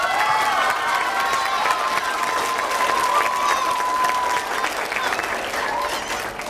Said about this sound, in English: Let's give our other schools a big round of applause